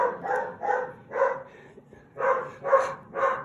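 A pet dog barks repeatedly at the mailman, about seven muffled barks in two rhythmic bursts separated by a short pause, moderately loud and a little distant indoors.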